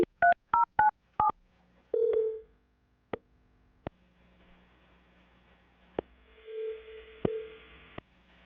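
A phone dials out for a radio call: a quick run of six touch-tone beeps, then a lower tone, scattered clicks and a faint connecting buzz, with no talk.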